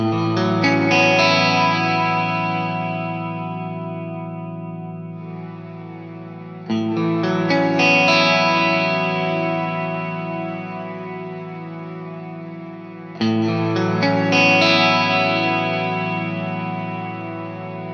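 An instrument played through a Strymon Cloudburst ambient reverb pedal with the mix turned way up: three struck chords each bloom into a long, shimmering wash that slowly decays before the next one enters, with no voices.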